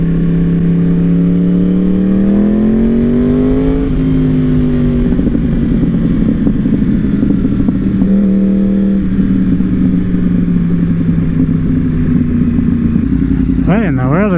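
A Yamaha R1 sport bike rides through the city in first gear, its engine droning loudly and steadily with pitch that climbs, dips and shifts through long pulls, close and continuous.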